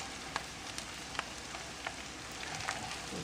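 Rice stir-fries in hot oil with softened onions, giving a soft, steady sizzle with faint scattered pops and scrapes and no talking.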